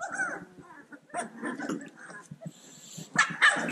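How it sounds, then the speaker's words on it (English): A litter of puppies yips, whimpers and gives small barks in close, irregular bursts, some overlapping, with short quiet gaps between. "A lot of puppies talking to me right now."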